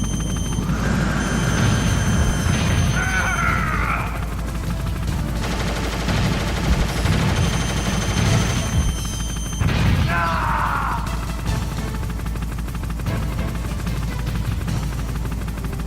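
A Metal Gear Solid boss fight fills the air with dense, loud gunfire and explosive crashes under a steady helicopter-like drone, and a few sharp whining sweeps cut through midway.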